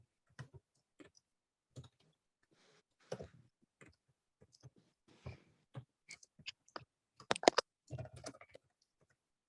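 Fingers type on a computer keyboard close by in a quiet room, sparse clicks at first that grow into denser bursts of keystrokes, with no talking.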